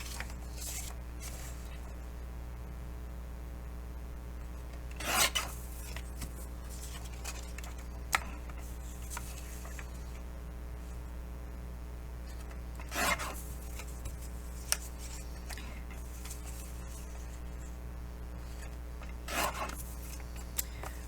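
Paper craft pieces being trimmed down to 5 1/2 inches, soft rasping cuts and rubbing strokes at intervals over a steady low hum, close and fairly quiet.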